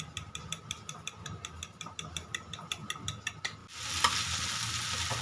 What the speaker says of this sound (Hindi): अब अंडों में सॉल्ट ऐड करेंगे और इसको फेंट लेंगे।